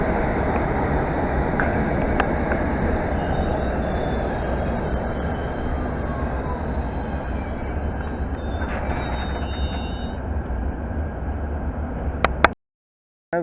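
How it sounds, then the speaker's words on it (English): A London Underground Metropolitan line train bound for Baker Street rumbles through Pinner station, a loud steady roar of wheels on rails with faint squeals over it, lasting about twelve seconds before cutting off abruptly. "But there's the Baker Street train."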